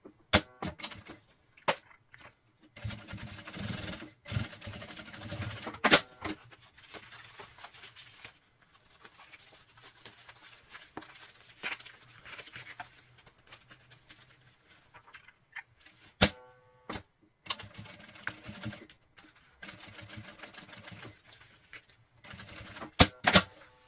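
Sewing machine running a topstitch seam on a double men's toiletry bag, heard as bursts of rapid mechanical stitching separated by pauses and sharp clicks, close and fairly quiet, with no talking.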